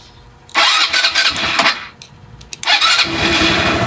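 An engine with a push-start that will not work, started by briefly bridging the contacts with a metal piece to make a spark: loud, close cranking that catches and revs, then a second start that roars on steadily.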